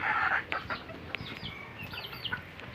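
Mother hen in a small backyard chicken coop giving soft, close clucks in short bursts, with a few sharper calls scattered across the few seconds and no talk.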